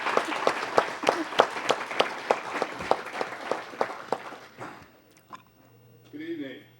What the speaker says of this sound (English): Give him a round of applause when he comes up.